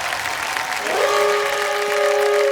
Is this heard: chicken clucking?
no